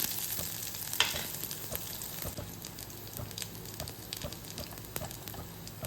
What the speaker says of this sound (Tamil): இஞ்சியும் பச்சை மிளகாயும் சேர்த்துடலாம் இஞ்சி பச்சை வாசனை போகட்டும்